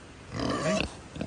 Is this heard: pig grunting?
yes